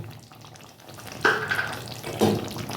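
A fried spice mix is stirred into a jackfruit (echor) curry in a pan, with a soft background sizzle and two short, loud scraping bursts from the stirring.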